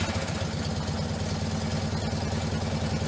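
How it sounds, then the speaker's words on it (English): A Fiat 126 running on its two-cylinder air-cooled 600 cc engine, a loud, steady, buzzy chug with a low throbbing pulse and mechanical clatter, close and uninterrupted. "It was a two-cylinder air-cooled engine with the displacement of 600 cc and 23 ferocious horsepower."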